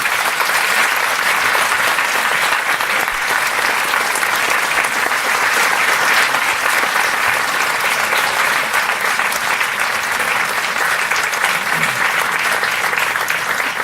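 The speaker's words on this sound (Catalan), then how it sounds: "Un fort aplaudiment per a Ramon." A hall audience gives a long, loud, steady round of applause for the speaker Ramon before a talk on public pension sustainability, dense clapping filling the whole stretch without pause.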